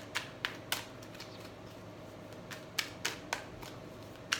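Sharp, crisp card snaps and riffles, several quick clicks in two bursts separated by a short pause, close by and fairly quiet.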